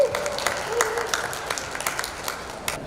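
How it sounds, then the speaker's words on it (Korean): An audience at a university busking event claps to welcome a student performer, a modest, fairly close applause with distinct individual claps popping out of a thin, uneven patter. "박수로 모시도록 하겠습니다"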